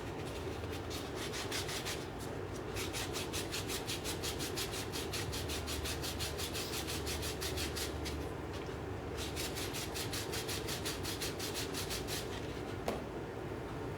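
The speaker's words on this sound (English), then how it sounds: "now I'll just sand that just a little bit" A Kennedy half dollar coin ring is sanded by hand in a steady run of fast, even rasping strokes, close and continuous, with a short pause near the end.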